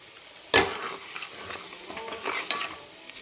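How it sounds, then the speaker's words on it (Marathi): Mutton curry masala sautéing in a pan over a low flame, with one sharp clatter of a spoon at the start, then a quiet, steady sizzle and soft scraping strokes that rise and fall. "याला पण कमी गॅसवर एक मिनिटभर छान परतून घ्यायचं म्हणजे आपल्या कालवनाला छान कलर येतो"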